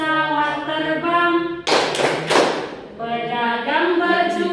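Claps of a class clapping song burst in mid-clip, a rapid flurry of hand claps lasting about a second, set between stretches of a woman's sung or spoken voice.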